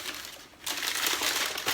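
Plastic wrapping crinkled and torn off a plant propagation station, close crackling rustles that pause briefly then return louder in a continuous stretch.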